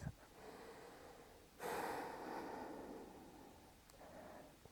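Slow, deep breaths during a closing sequence of a vinyasa yoga practice, a long drawn inhale or exhale of airy rushing, quiet and close, with softer breathing before and after.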